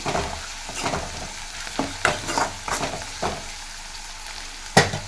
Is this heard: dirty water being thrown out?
no